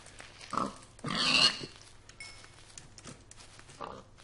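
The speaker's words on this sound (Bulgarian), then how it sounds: "Прасе чум някъде." Minecraft pigs oink in a few short, scattered bursts, one louder snort in the middle and softer grunts around it, with no one talking.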